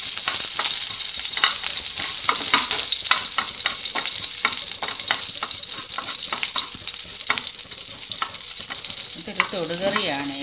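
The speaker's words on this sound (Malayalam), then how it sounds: "ഞാൻ 2 പച്ചമുളകും 1 വെളുത്തുള്ളിയും ചേർക്കുന്നുണ്ട്" Green chillies and garlic sizzling in hot oil with popped mustard seeds, a steady loud crackle with scattered pops and the scrape of stirring, heard alone throughout.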